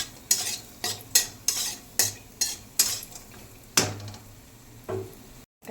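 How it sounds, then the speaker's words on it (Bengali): Lentil dumplings (bori) frying in hot oil in a kadai, with rhythmic clinks and scrapes of a spatula against the pan every half second over a soft sizzle, close and without talk. "এবার বড়িগুলো দিয়ে দেবো, দিয়ে অল্প ভেজে নেব"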